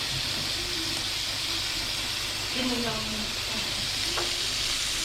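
Steady sizzling hiss of food frying in a hot pan over high heat, constant and close, with a few faint voices murmuring in the background.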